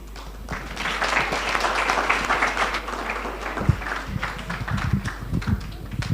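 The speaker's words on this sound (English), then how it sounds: "Another round of applause for all our speakers." Audience at a church-hosted career event applauding its speakers, broad continuous clapping with a low background hum and some thumps, voices faintly mixed in.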